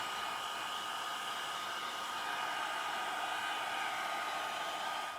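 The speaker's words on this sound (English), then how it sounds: "we'll hit the dryer on it." A hair dryer blows steadily to dry a wood window frame with a crackle finish, giving a continuous even whoosh at close range with no talking.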